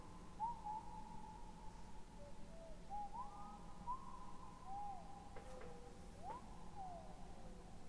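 Soft whistled tune in the game LISA: The Painful, a thin wavering melody of short rising and gliding notes drifting over a steady low hum, fairly faint and alone without talk.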